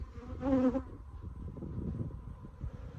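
Italian/Africanized hybrid honeybees buzz around a tiny fist-sized swarm on a flowering garden bush, one close bee drone briefly passing near before fading into a soft, low background hum.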